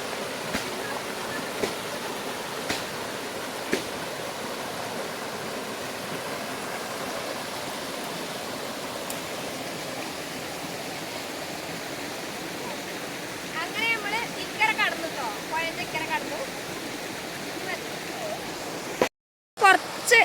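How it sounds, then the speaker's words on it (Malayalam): Kottappuzha river water rushes in a steady, broadband wash, moderately near and continuous, with faint intermittent knocks and a brief cut near the end. "പുഴേൻ്റെ സൗണ്ടൊക്കെ കേൾക്കാൻ തുടങ്ങിയിട്ടുണ്ട് കേട്ടോ"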